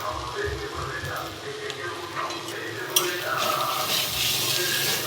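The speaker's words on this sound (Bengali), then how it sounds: "এটাকে দিয়েও একটু কষিয়ে নিচ্ছি।" Turmeric, salt, coriander and cumin powders sauté in a pan for cauliflower kofta, making a soft sizzle with occasional stirring scrapes close by while a voice talks over it.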